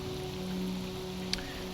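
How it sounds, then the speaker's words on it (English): Steady rain falls in the S.T.A.L.K.E.R. Anomaly game world, a continuous, even hiss of drops with no voices over it. "When you're standing underneath the trees, they block off rain."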